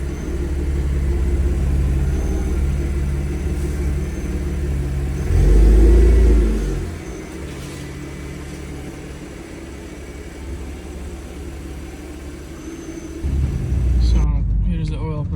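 A 2011 Audi S4 engine with forged internals and a rebuilt head running at idle: steady low rumble that swells briefly into a louder rev, then settles back to a constant drone, close and loud, with talking over it.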